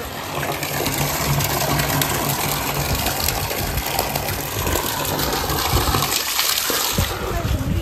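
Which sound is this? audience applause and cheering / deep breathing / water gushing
water gushing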